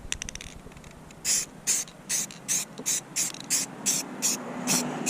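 Short hissing spray bursts repeat in a steady rhythm, about ten quick sprays close by, with faint clicks at the start.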